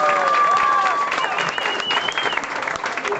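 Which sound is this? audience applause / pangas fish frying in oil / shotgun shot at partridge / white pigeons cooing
audience applause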